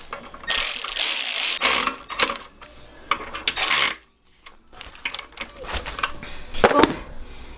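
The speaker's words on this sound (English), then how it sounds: "I'm just gonna want to get your 10mm socket." A 10mm socket ratchet turns a bolt on a Predator 212 engine during an electric start kit install, giving bursts of close, loud metallic clicking and rasping with brief pauses between strokes, with no talking.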